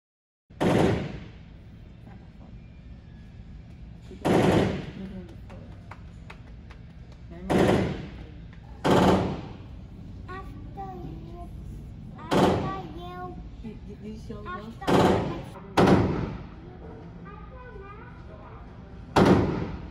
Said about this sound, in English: And then I got to shoot 4 fully automatic weapons.